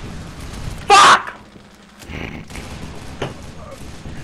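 A sudden loud burst of enemy gunfire in the extraction shooter Loadout erupts close by for about a quarter second, followed by quieter game sounds.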